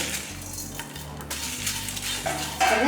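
Cumin and Kashmiri chillies dry roasting in a pan, with a steady close sizzle and rhythmic scraping as they are stirred, a few metallic clinks of the utensil against the pan.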